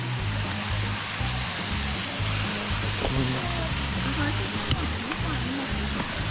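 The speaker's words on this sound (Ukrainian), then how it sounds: "Самий найвищий рівнинний водоспад в області." A steady, broadband rush of falling water from the Maniava waterfall in the Carpathians, over 20 metres high, fills the scene, with low voices talking underneath throughout.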